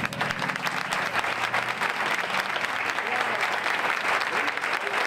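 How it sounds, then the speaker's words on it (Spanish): Crowd applause greets the workers at the opening of Los Mellizos in Fuengirola, dense steady clapping over five seconds with voices mixed in. "Un aplauso para los trabajadores."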